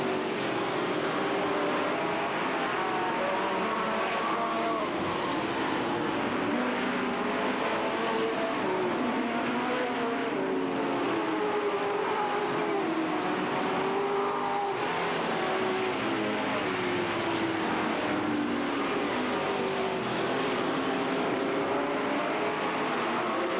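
Sportsman-class race cars in the 1988 Hales Open feature at Hales Corners Speedway, engines droning and rising in pitch as they circle, a continuous distant roar of several cars passing and accelerating.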